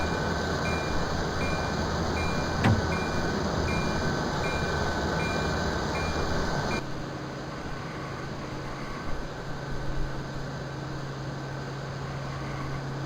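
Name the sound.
MARC Penn Line train running in a train simulator video game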